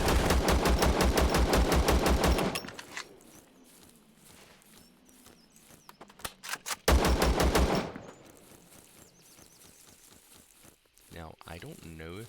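Gunfire in the shooter game ZERO Sievert comes in two loud, rapid bursts of repeated shots, one at the start and a shorter one midway, separated by quieter in-game sounds.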